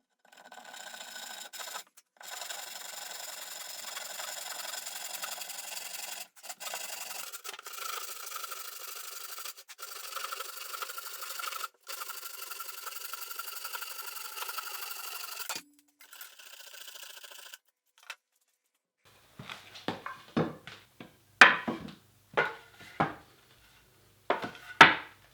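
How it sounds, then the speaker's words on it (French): Wooden planks for a garden planter box being cut lengthwise with a saw, a steady rasping run of cutting with short pauses, closer and louder for the first fifteen seconds, then sparse sharp knocks and clatter. "Je positionne mes planches et je les découpe dans la longueur."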